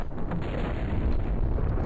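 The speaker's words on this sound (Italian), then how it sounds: "un'esplosione, che cazzo era?" Rocket blowing up in a space colonization game, a sustained roaring rumble of the blast that stays loud and heavy for the whole moment, with no voices.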